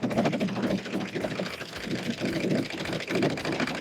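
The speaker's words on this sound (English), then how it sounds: "Serging together my front seam first." A serger overlocking machine stitches the front seam of stretchy bike shorts, a close, busy mechanical whir with a fast rhythmic chatter that surges and eases as the fabric feeds through, with no talking.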